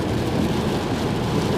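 Loud, steady wash of rain and wet-road hiss heard while a Tesla Model 3 on Toyo Proxes Sport A/S tires drives through a downpour, a dense continuous roar with no voices.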